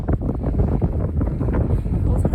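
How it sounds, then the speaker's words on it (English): Strong wind buffets the microphone on the exposed rock of Bristly Ridge in a steady, gusting roar that is loud and close throughout the short stretch. "especially with the wind whipping against you."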